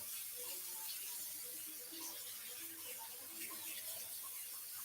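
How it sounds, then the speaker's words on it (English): Cold tap water runs steadily into a kitchen sink while meat is rinsed under it, a continuous close splashing and trickling spray with no talk. "you rinse them out with cold water"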